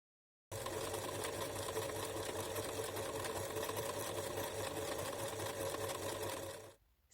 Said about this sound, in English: The machine trims the fabric raw edges and traps them inside a thread casing